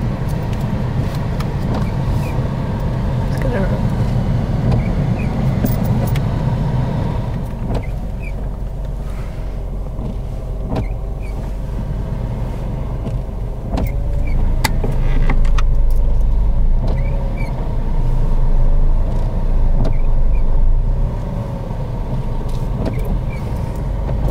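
A car pulls away on a mock driving test in the rain, its engine a steady low rumble inside the cabin with rain and road noise, rising briefly in loudness partway through; no talking.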